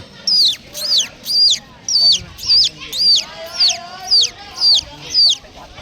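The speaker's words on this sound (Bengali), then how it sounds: "এটা কি মুরগির বাচ্চা?" Small chick cheeping in a steady run of about ten high, sharp, downward-sliding peeps, evenly spaced and close, with a faint low background murmur beneath.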